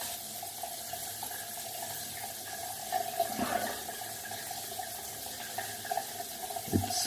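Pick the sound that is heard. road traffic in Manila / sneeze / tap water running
tap water running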